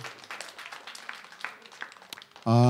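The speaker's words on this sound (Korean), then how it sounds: "자, 박수하겠습니다." A church congregation claps lightly and unevenly for a couple of seconds, soft and a little distant, before a loud sustained tone suddenly cuts in.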